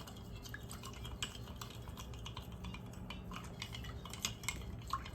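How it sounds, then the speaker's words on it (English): Stirring a pH buffer solution until it dissolves produces faint, rapid clinks and ticks of a utensil against glass, continuous and fairly quiet over a low room rumble, with no one speaking. "you are going to stir until it's completely dissolved"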